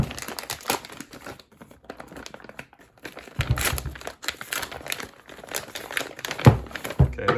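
Outer packaging being unwrapped from a 3,000 psi US Air Force servo actuator, with bursts of close crinkling and crumpling, some tearing and an occasional soft thunk, louder toward the end.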